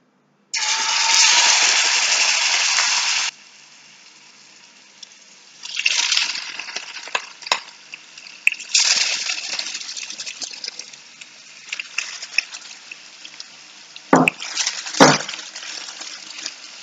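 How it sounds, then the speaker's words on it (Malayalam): Chicken pieces dropped into hot oil for a restaurant-style butter chicken, giving a loud burst of hissing sizzle that dies down, then returns in several surging bouts of frying crackle and spatter. "എണ്ണ ചൂടായിട്ടുണ്ട്. നമുക്ക് ചിക്കൻ ചേർത്ത് കൊടുക്കാം."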